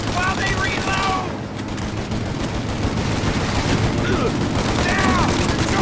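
Machine gun fire in Mafia: Definitive Edition, a sustained, dense rattle of rapid shots lasting the full span at a steady, fairly loud level, with faint voices mixed into the din.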